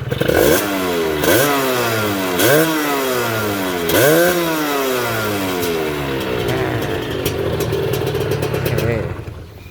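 A Honda Dash 125 motorcycle engine revved repeatedly in a Phuket repair shop, loud and close, with rhythmic rising-and-falling blips of throttle that settle into a rough idle near the end.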